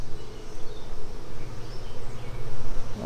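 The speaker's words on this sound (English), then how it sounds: "good looking frame of bees." Honey bees buzz steadily over an open hive frame full of capped brood and larvae, a dense, continuous hum close to the microphone that swells slightly toward the end.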